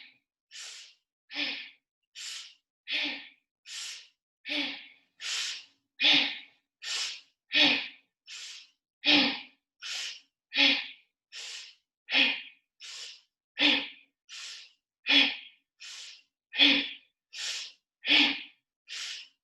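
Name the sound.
breathing in and out through the nose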